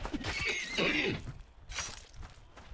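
A horse neighs and whinnies in a video game, a loud, drawn-out call in the first second or so, followed by quieter game sounds with a brief bright burst later on.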